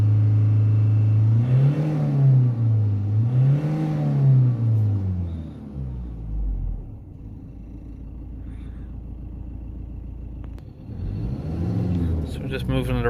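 A Ford Transit 2.4 van with an underboost fault revved twice in quick succession, the engine note rising and falling, then settling into an idle before climbing again near the end, with a voice talking over it.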